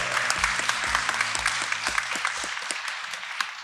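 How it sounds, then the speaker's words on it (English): An audience at a tech open-source event breaks into steady applause with a few distinct louder claps standing out, and a low rhythmic thump sounds underneath throughout. "Can we get a round of applause for Casey,"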